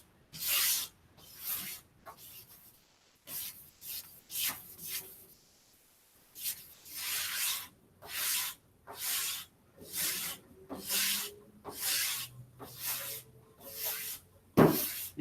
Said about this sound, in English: Get this sanded off.